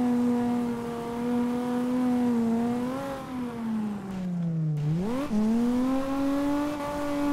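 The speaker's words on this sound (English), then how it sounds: "We can hold these drifts uphill." Video game car engine from CarX Drift Racing online, drifting uphill toward the finish line: a loud, steady revving drone that wavers in pitch, drops low and then surges back up, continuous and close with no speech.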